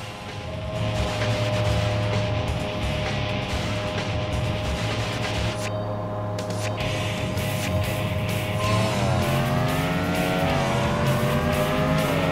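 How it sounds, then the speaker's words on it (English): A high-revving race car engine in the video game Tokyo Xtreme Racer 3 drones loudly and continuously, its pitch climbing and shifting as it accelerates near the end. "I love the way this engine sounds, man."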